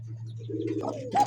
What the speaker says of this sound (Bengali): দেখছেন কবুতরের ডাক